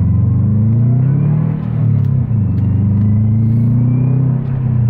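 A Subaru car's engine hums loudly and steadily up close, its low droning note rising and dipping slightly as it revs, with no voices.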